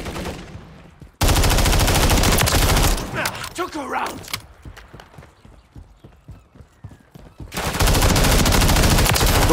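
Gunfire in Call of Duty: Modern Warfare 3 comes as loud, dense bursts of rapid shots separated by quieter stretches of scattered single shots and game noise, with a voice briefly audible.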